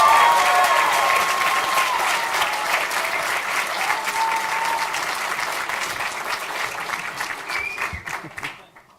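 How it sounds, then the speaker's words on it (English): Loud sustained applause from a banquet crowd at an athletics hall of fame event, dense clapping with a few voices mixed in, tapering off at the close. "I'm not going to leave the podium unless I hear the loudest applause"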